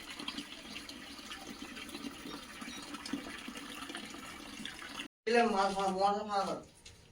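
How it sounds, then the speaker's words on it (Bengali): Water drains down from a rooftop tank being cleaned, a steady splashing gush heard close for several seconds, after which a voice speaks over it. "তো ট্যাঙ্কিটা পরিষ্কার করা হচ্ছে ওপরে, তার জন্যই জল সব নিচে নামানো হচ্ছে"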